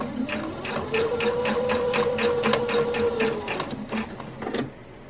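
A sewing machine stitches through layers of a halter dress, running steadily in a fast, even rhythm of needle strokes for several seconds, then slowing and stopping near the end.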